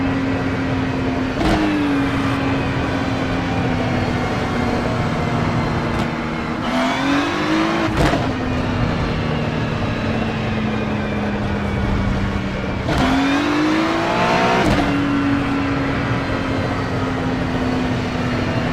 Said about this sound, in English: Hey Ryan, the engine noise drone you out a lot.